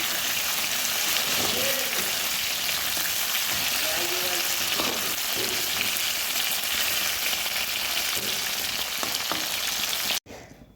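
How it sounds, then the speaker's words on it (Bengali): Pieces of drumstick (moringa) vegetable fry in hot oil, giving a close, constant crackling sizzle with occasional stirring clinks, which stops abruptly near the end. "ডাঁটাগুলো ভেজে তুলে নিয়েছি"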